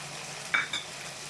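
Ridge gourd and tomato fry in a pan as a spoon stirs them, two quick scraping clinks rising briefly over a faint, steady sizzle.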